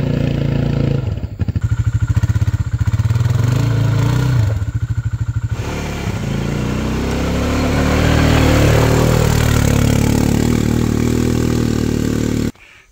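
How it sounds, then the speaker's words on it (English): A quad bike engine grinds uphill behind hikers and porters on a long walk on volcanic Ambae; a loud, close motor idling and revving in uneven bursts, then holding a steady drone before cutting off abruptly, with no one speaking. "the quad bike is following us in pursuit with a whole bunch of porters"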